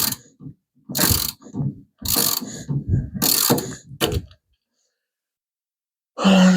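Factory sway bar bolts being tightened on a Mopar A-body car: several loud, close bursts of ratcheting wrench clicks in uneven strokes, with brief pauses between them and a final burst after a silent gap.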